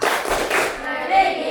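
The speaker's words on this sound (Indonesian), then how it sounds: "Tepuk PPK." A class of students performs the PPK rhythmic hand clap in a school classroom, a quick patterned run of loud claps with some voices mixed in.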